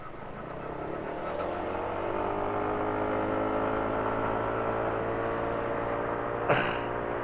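A Honda PCX 150 scooter engine held at high RPM while riding around, giving a sustained, even whine with a droning tone, joined near the end by a brief sharp knock.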